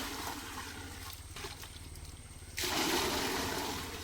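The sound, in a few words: pouring water and mixing Indofil M45 fungicide powder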